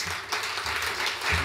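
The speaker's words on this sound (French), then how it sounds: "Vous pouvez l'applaudir." A French business-event audience at MEDEF applauds a speaker, a brief burst of full, steady clapping.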